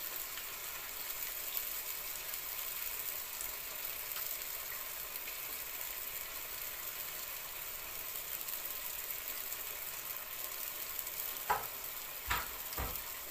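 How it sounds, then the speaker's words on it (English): Chopped tomatoes, saltfish and seasoning sizzling in a pan for Jamaican ackee and saltfish: a faint, even hiss throughout, with a few sharp spoon taps near the end. "So now we're adding some chopped tomatoes to the saltfish and the seasoning."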